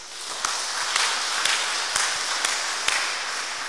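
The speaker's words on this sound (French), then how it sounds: "on applaudit bien fort" A congregation applauds loudly during a Saturday Mass in St Patrick's church, a steady wash of many hands with a few sharper, louder claps standing out at intervals, and no voices.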